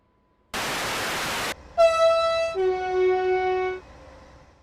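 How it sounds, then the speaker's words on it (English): Taurus MRCE electric locomotive in Train Sim World 3 on the Hamburg to Lübeck line: a loud burst of broadband noise, then a sustained musical whine of stepped tones rising in pitch from the traction motors. "this MRCE locomotive has that iconic musical sound from the traction motors"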